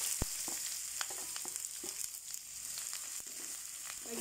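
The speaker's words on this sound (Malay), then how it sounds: "Sekarang saya nak masukkan pelaga, kayu manis dengan cengking semua. Masuk sekali. Lepas tu terus masukkan bawang." Cardamom, cinnamon, cloves and onion frying in hot oil make a soft, continuous sizzle close by, with scattered sharp crackles and a few stirring knocks.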